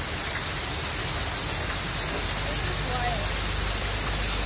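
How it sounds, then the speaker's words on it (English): A heavy Florida downpour roars as a steady, dense wash of rainfall, loud and unbroken throughout, with no clear individual drops standing out. "Out in the rain."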